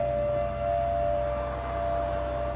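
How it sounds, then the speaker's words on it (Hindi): A civil defense-style dam siren warning of water release wails steadily on one sustained pitch throughout, loud and continuous, with no talking. "डैम में पानी छोड़ रहे हैं ना, उसका सायरन बज रहा है।"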